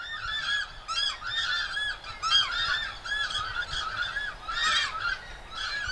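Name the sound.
several pairs of takahē calling territorially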